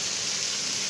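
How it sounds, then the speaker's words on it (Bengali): Masala spices fry in hot oil in a pan, giving a steady, bright hiss of sizzling that holds even and close for a short stretch, with no talk. "এখন মশলাটা কষিয়ে নে"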